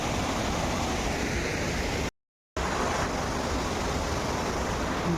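Water rushes steadily through canal dam gates into the river, a loud, broad, continuous roar broken by one brief dropout.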